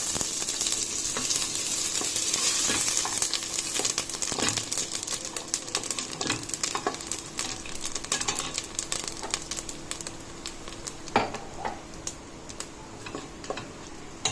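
Whole spices sizzle and crackle in hot mustard oil in a heavy-bottomed pan, a steady close frying hiss with scattered pops and clicks throughout.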